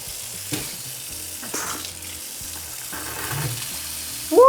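Bath tap running hard with mains pressure boosted by a Salamander pump, a steady rushing gush of water that carries on alone and close by with small splashy fluctuations.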